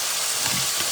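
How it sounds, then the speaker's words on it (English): Steady hiss and sizzle of chicken frying in a hot pan, a dense crackling wash of sound. "So now while the chicken is frying"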